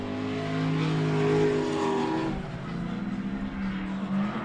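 Drift cars battling in tandem at a Colorado drift competition, engines screaming high and rising before dropping off, with rough tire and engine noise as they slide close together.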